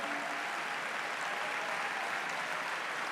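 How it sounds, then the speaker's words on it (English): Audience applause at a gala conference, a dense, sustained wash of clapping from a large crowd filling the room at a steady, even level throughout. "just give them a round of applause for being here."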